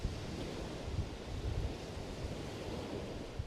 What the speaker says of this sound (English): You can hear the waves crashing against the beach.